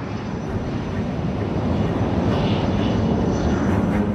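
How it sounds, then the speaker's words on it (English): A Soviet MiG supersonic fighter jet roars past with a steady, loud, broadband engine rumble that builds slightly and holds throughout. "a high-performance supersonic Soviet fighter"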